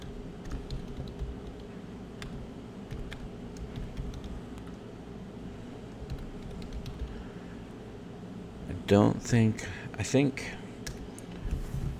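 Code being typed on a computer keyboard during a Godot 4.3 game-programming session, a steady soft patter of key clicks throughout, with a voice briefly speaking near the end.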